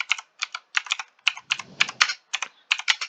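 Typing on a computer keyboard: bursts of quick, close key clicks in uneven clusters with short pauses between them, heard alone.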